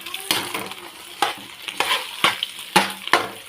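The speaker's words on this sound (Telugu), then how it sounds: "కంటిన్యూగా కలుపుతూనే ఉండాలి, లేదంటే ఇలా స్టిక్ అయిపోతుంది." Egg fried rice being stirred in a hot pan, with repeated scraping strokes of a spatula and a steady sizzle, about seven sharp stirs in a loose rhythm, close and fairly loud.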